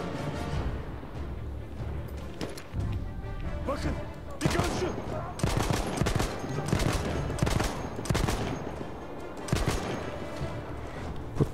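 Battlefield 1 gunfire rattles in repeated rapid bursts and single shots, dense and loud, with explosive cracks scattered through a noisy battlefield.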